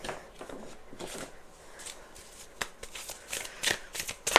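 Tarot cards being shuffled nearby, a steady papery riffle and flutter with soft taps, growing busier and louder toward the end, with no talk.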